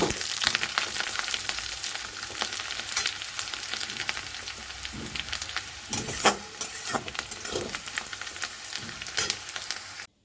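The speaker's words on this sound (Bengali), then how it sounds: "পেঁয়াজ আদা রসুন ভালো করে ভাজা হয়ে গেছে" Chopped onion, ginger and whole garlic cloves fry in a pan, giving a loud, continuous sizzle broken by occasional stirring scrapes, with no talking.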